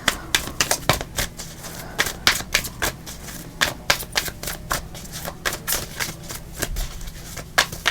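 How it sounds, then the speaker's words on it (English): Rapid riffling and snapping of a tarot card deck being shuffled, repeated bursts of crisp slaps close up, no talking. "Meanwhile, I shuffle this deck."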